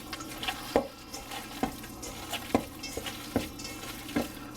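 Hands kneading and squishing burger meat mixed with breadcrumbs in a bowl, giving a series of soft, wet, rhythmic squelches at regular intervals, fairly quiet and close.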